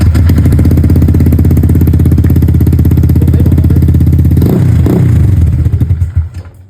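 A motorcycle engine runs loud and close with a rough, rapid idle, then stutters and dies away to quiet near the end; the motorcycle starts by itself.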